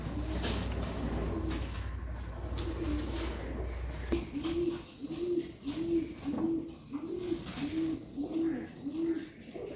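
Wild pigeons coo in a steady series of soft, evenly spaced calls near the listener. A low rumble fades out partway through.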